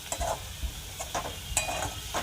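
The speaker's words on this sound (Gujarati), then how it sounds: "જીરું અને તલ નાખીને વઘાર કર્યો, તો પછી મીઠો, લીમડો, લીલા મરચાં અને લસણ નાખીને હવે આને થોડી વાર ચડવા દેવાનું છે" Cumin and sesame seeds sizzle in hot oil in a pan with curry leaves, green chillies and garlic, crackling steadily up close, with a few light stirring scrapes and spoon clinks.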